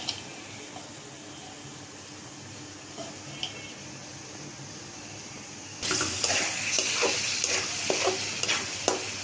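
Spice paste for a chicken curry is stir-fried in a pan: a faint hiss at first, then a sudden louder sizzle with repeated scraping strokes of the spatula for the last few seconds.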